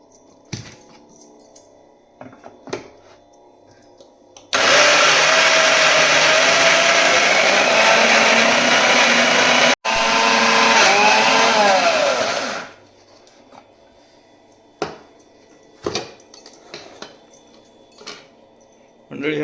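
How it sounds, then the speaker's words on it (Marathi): A mixer grinder churns soaked chana dal for coarse grinding in a home kitchen, a loud steady whirring burst of about eight seconds with a brief pause midway, set between quieter stretches of kitchen clatter. "आपल्याला जी भिजवलेली डाळ आहे आपली चण्याची, ती आपण त्यामध्ये फिरवून घ्यायची आहे."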